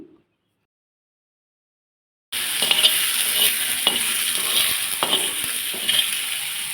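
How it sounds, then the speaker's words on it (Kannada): Cut tomatoes frying in a hot pan with steady sizzling and intermittent stirring scrapes, starting abruptly after a moment of silence and continuing close and even. "ಇದೇ ಒಂದು ಹಂಚಿಗೆ ಟೊಮೊಟೊನ ಹಾಕ್ಬಿಟ್ಟು ಫ್ರೈ ಮಾಡಿ"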